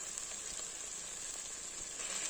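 Green turkey berries (sundakkai) sautéing in a pan while mutton gravy is being made, giving off a soft, steady sizzle with faint crackles, quiet and continuous with no talking.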